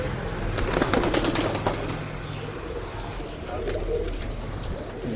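A male breeding pigeon released by hand gives soft coos and a burst of close wing flapping, with faint chirps and background bird noise in a pet shop in Bangalore.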